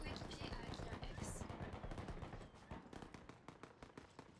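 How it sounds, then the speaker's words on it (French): Gunfire in the video game Off the Grid, rapid automatic bursts and cracking shots that fire continuously and keep going as a fast rattling stream, fairly loud throughout. "J'entends que ça tire."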